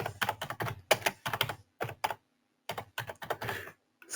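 Computer keyboard typing in quick irregular bursts with short pauses, close and fairly clear, while entering a name for a restricted reviewer role in review software.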